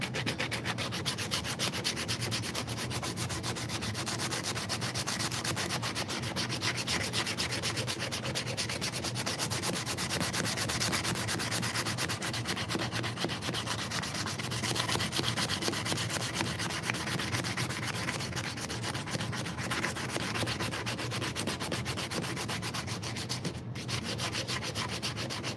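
Coarse 80 grit sandpaper rubbing hard across a discoloured surface during a shop clean-up, a steady close scratchy rasp that runs without a break and stays loud and even throughout, with no talking.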